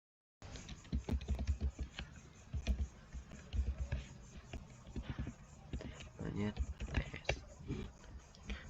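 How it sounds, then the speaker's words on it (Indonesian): Fast clicking keystrokes typed on a computer keyboard, close and quiet, in irregular bursts, with a voice talking throughout. "Lalu di sini kalian ketikkan localhost"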